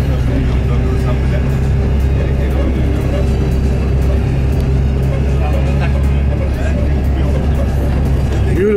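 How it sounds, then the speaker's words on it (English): Steady low engine drone and vibration inside a shaky moving bus in Kusadasi, loud and continuous, with someone speaking over the hum. "The bus is a little bit shaky"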